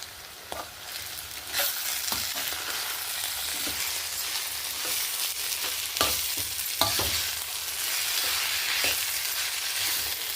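Green chili paste masala with curry leaves and chili powder fries in a pan for a hotel-style potato curry, a steady hiss of sizzling broken by repeated scraping stirs.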